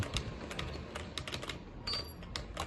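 Keys on a computer keyboard being pressed one after another to check that they work, rapid irregular clicks and taps at close range with no talking.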